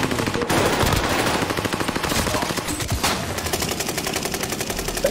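Rapid automatic gunfire in a video game rattles continuously at close range, a dense, evenly spaced stream of shots with barely any pause.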